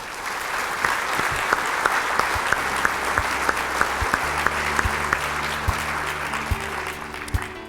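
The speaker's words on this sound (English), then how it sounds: "Let's give them all a round of applause." Conference attendees at the 2015 NAED Eastern Region gathering applaud in a steady, dense wash of clapping, with sharper individual claps and faint tonal sounds underneath.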